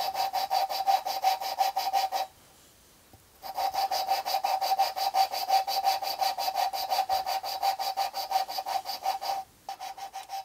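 Valves are lapped by hand on a Jaguar XJ6 cylinder head, giving a steady, rough, sandpaper-like grinding in rapid rhythmic strokes, close up, with a brief pause around two seconds in and another near the end, no voices.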